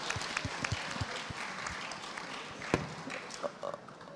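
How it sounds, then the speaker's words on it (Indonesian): Audience applause at a smart city planning seminar, a steady wash of many hands clapping, moderately distant, with a few sharper individual claps standing out. "kita beri aplaus untuk"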